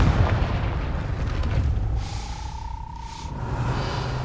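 A Confringo fire spell in Hogwarts Legacy lets off a heavy booming blast that rumbles loudly at first, then fades into a thinner ringing tail, with no speech.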